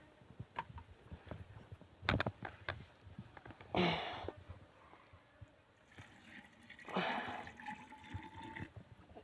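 Water is poured into a container holding cow dung for a herbal preparation, producing two splashing gushes over low rustling and handling noises, and no voices.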